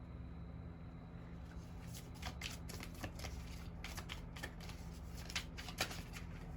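Tarot cards being shuffled, quick close riffling flicks in irregular bursts over a steady low background hum, with no talking.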